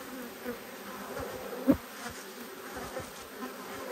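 Agitated honeybees at an open hive during a nectar flow, a dense steady buzz with brief louder passes as individual bees fly close by the microphone.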